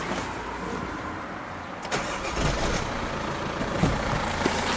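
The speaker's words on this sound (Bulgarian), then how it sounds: "Я запалим колата." The engine of a 2011 Chevrolet Captiva turns over and catches, then settles into a steady, fairly loud running hum close by, with no talking.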